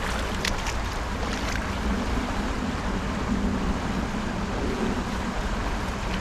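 Strong river current rushes around a small boat, with steady broadband water wash and wind buffeting the microphone throughout; no voices.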